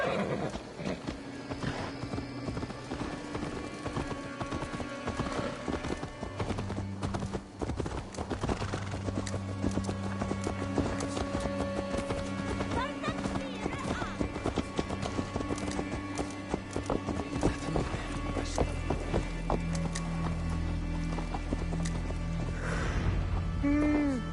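Horse hooves clip-clop steadily through a scene in Assassin's Creed Valhalla, with an occasional whinny, over continuous game music and ambient tones that run throughout.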